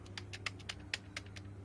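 Computer keyboard keys pressed in an irregular series of sharp, close clicks and taps, including a space bar that had been sticking, over a low steady hum with no talking.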